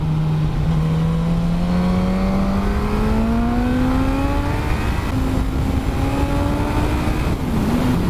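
A 2018 Suzuki GSX-S1000F motorcycle engine runs under light throttle, its note rising steadily, easing briefly and climbing again. The drone is loud and continuous, with wind rush underneath and no voices.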